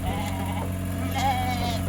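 Arashan breed rams bleat over a constant low engine drone, with a couple of wavering calls standing out near the microphone through the short stretch.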